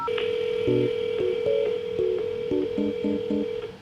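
Telephone keypad dialing tones beep in a quick irregular run of short, loud presses over a steady line tone.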